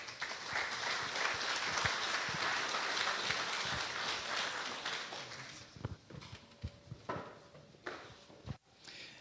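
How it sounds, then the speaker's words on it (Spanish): Audience applause welcoming a priest and writer to a talk, loud and dense at first, then thinning into scattered claps and footsteps before fading. "Un aplauso, por favor."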